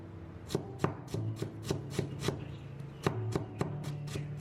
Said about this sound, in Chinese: 再改刀把它切成姜丝，最后再切成姜末就可以了